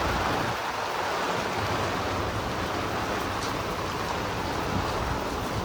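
Stormy rain driven by wind pours on a village house in a steady, dense roar that holds evenly throughout with no talk.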